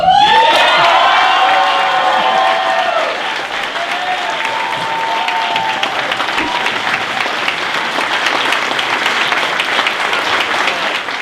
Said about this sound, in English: Applause goes out to Maria, Vic, Jamin, and the rest of the Honor Guard.